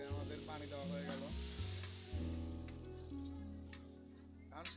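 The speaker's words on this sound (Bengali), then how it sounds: "চাউল ভাজা চলতেছে, চাউল ভাজার কাজ হচ্ছে" Rice fries in a pan with a steady, close sizzle and occasional stirring scrapes, while a low mechanical hum and faint background voices carry on beneath it.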